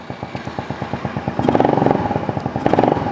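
A Venom X22GT 250cc automatic street bike with a CVT starts up: a steady, rapid close-up engine putter that swells louder and faster as revs briefly rise, then settles before rising again.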